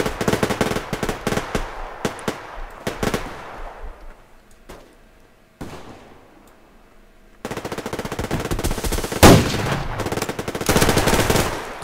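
Dense automatic and single gunfire from the online shooter game Survarium, loud rapid bursts and cracks, then a quieter pause before heavy continuous firing resumes.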